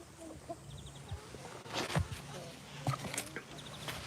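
Chickens cluck and murmur nearby in a quiet outdoor setting, with a few sharper calls and faint background rustling.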